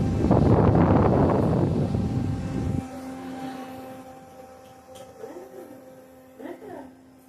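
A powerful electric fan blasts air straight into the microphone as a loud, roaring whoosh for about three seconds, then cuts to a quieter steady hum with faint voices in the background.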